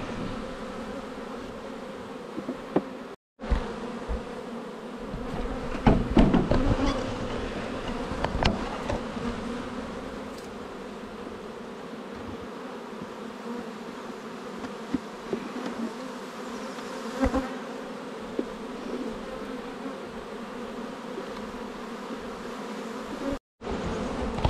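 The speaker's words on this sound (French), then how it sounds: "Allez, on continue à mettre cet essaim" A honeybee swarm buzzes steadily and densely at close range while it is put into a hive, a continuous drone that swells briefly and is broken by a couple of short handling clicks, with no one speaking.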